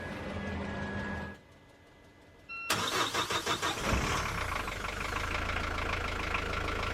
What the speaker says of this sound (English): I thought it was a good idea to come down here to the boat and start up the engine